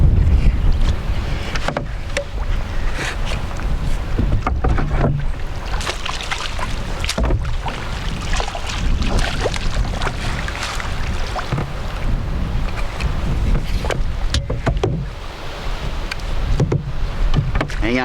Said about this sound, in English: I'm gonna paddle up into the wind, then let myself drift back.